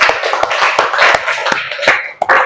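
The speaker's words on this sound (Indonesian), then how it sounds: "kita kasih tepuk tangan lagi" Classroom applause from students during a practice teaching lesson, a burst of irregular hand claps close by, sharp taps scattered across a couple of seconds.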